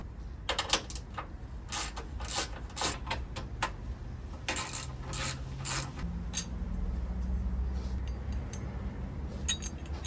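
Ratchet clicks and metallic clinks while radiator brackets come off in a project car's engine bay, quick bursts of clicking up close with short pauses, over a low steady hum.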